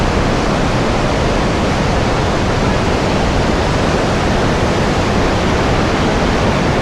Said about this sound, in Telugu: ఇది ఆడ చూడండి నీళ్ళు ఫ్లో పోయి నున్నగా అయిపోయినాయి రాళ్ళు